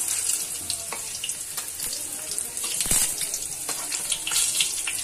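Vegetable spring rolls deep-frying in hot oil give a steady, close, bright sizzling hiss with small crackles throughout, and no one talks.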